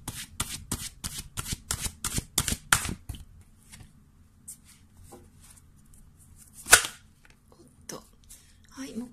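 Tarot-style fortune-telling cards are shuffled in a quick run of crisp riffling bursts over the first three seconds, followed by softer scattered card handling and one sharp slap near the end.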